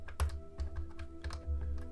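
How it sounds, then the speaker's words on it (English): Wireless computer keyboard handled and clattering as it is plugged in to charge, with several close, sharp clicks and knocks in an irregular rhythm over a low steady hum, no talk. "I'm just trying to plug my keyboard in."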